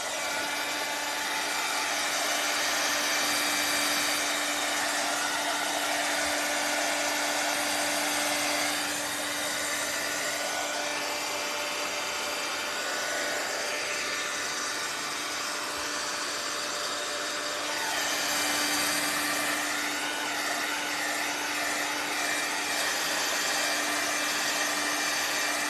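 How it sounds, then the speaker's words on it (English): A dryer blows steadily on freshly painted wood of a Fourth of July porch leaner sign, a continuous loud airy whoosh with a constant hum that runs for the whole stretch, no talking. "I'm gonna hit this with a dryer because it's gonna take forever to dry otherwise."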